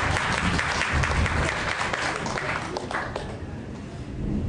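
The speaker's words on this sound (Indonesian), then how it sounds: "Tepuk tangan." Applause from a seated lecture audience fills the room with dense clapping. It holds steady at first, then thins and fades toward the end.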